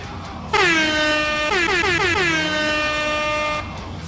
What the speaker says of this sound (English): Give me the air horn, Joe.